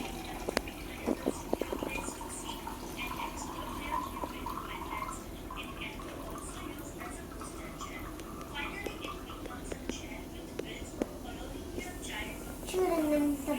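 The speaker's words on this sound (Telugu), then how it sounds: "ఈరోజు నేను వాటర్ పడుతున్నా" Water streams steadily into a container with a soft, continuous hissing splash, and quiet voices murmur over it throughout.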